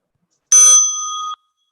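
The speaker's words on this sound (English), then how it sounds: "As you listen to the bell" A small mindfulness bell is struck once, giving a bright metallic ring with a sharp attack that decays over under a second, heard alone in silence.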